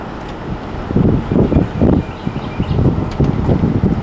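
A Range Rover drives along, its cabin filled with a steady low road and wind rumble that swells and eases in uneven pulses, with no talk.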